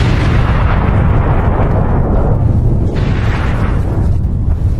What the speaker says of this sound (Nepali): त्यति बेला ट्र्याक मुनि राखिएको आईईडी विस्फोट भयो।